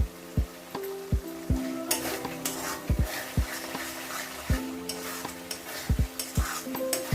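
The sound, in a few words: slit green chillies added to simmering prawn curd gravy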